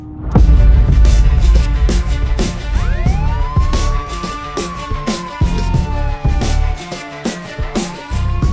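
A police siren wails in rising and falling sweeps, loud and near, over a busy backdrop of sharp knocks and clatter, with no voices.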